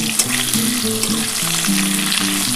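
Potatoes and cauliflower fry in a pan with oil, giving a steady, close sizzle throughout, with a low background hum and no talk.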